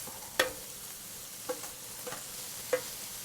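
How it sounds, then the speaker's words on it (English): Shrimp cooking in a pan over slightly lowered heat for shrimp and broccoli Alfredo: a faint, steady sizzle with a few sharp clicks of a utensil against the pan. "the shrimp are starting to cook"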